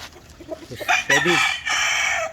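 A two-way broodstag rooster of Red and Mt. Banahaw bloodline crows loudly and close by, one full cock-a-doodle-doo with a strained, drawn-out ending and no talk.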